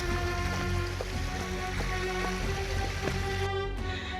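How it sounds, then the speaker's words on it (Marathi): Steady rain pours on a wet, misty trekking trail up a high hill fort in Maharashtra, a dense continuous hiss that stays even for the whole stretch with no voices. "पूर्ण ओला झालोय पावसाने."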